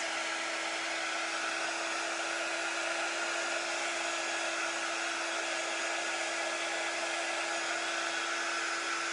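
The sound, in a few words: hair dryer drying etched butterfly paint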